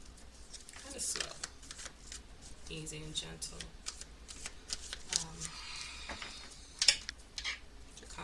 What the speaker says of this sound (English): And sometimes I like to shuffle